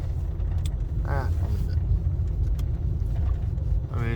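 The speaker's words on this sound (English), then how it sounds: "We got a car coming behind me" A car rolls up from behind on an Idaho back-country road, a low steady engine and tire rumble dominating throughout, with a few brief snatches of voices over it.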